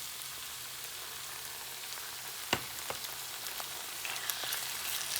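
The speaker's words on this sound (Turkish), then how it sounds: "Salça da birazcık kavrulduktan sonra arkadaşlar domatesini ekliyorum" Tomato paste and fresh tomatoes fry in a pan for bulgur pilaf, giving a steady, soft sizzle and hiss with a few sharp pops and faint stirring clicks.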